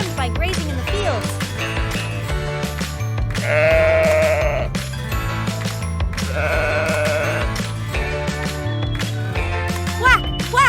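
A sheep bleats several times in a row over a bouncy children's music backing track, the wavering calls standing out clearly in the mix.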